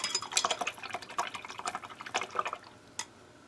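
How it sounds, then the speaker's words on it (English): A paintbrush is rinsed in water with rapid small splashes, swishes and drips close by, busy at first and then thinning to one last drip. "I'm going to rinse my brush a little bit because the paint is starting to get a little thick on there."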